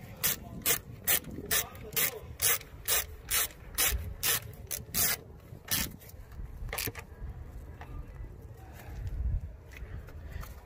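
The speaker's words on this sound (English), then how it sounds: "Screw it back then." Screws being driven back in by hand on a Fiat Grande Punto during a spark plug and ignition lead service, a close ratcheting tool clicking in a quick regular rhythm, then pausing, with a few more clicks near the end.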